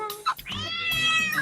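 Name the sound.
kitten meowing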